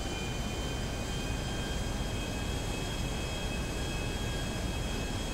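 Airplane engine at takeoff in GTA 5: a steady, loud, broadband engine roar with a constant high whine running throughout, unchanging in level for several seconds.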